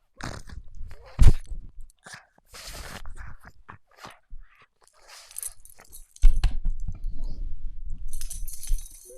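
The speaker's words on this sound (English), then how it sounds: "Can you guys hear all that slurping?" A dog slurps, licks and chews noisily on a toy close to the microphone, with wet smacks, crunches and bursts of gnawing separated by brief pauses.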